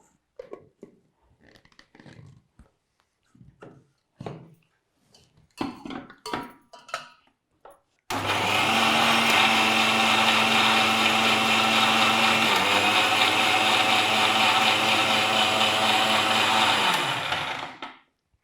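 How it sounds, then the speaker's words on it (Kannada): Someone talks briefly, then a kitchen mixer grinder starts loud and close, whirring steadily for about ten seconds as it grinds ginger, cumin and spinach with a little salt, before it spins down and stops. "ಇವಾಗ ಇದನ್ನ ನೈಸಾಗಿ ರುಬ್ಬಿ ಮಿಕ್ಸ್ ಮಾಡ್ಕೊಂಡು"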